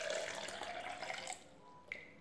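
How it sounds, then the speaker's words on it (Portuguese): Water pours into a container holding detergent mixture, a steady close splashing stream for just over a second that then stops, followed by a short clink. "Essa água aqui, ó, vou colocar aqui dentro."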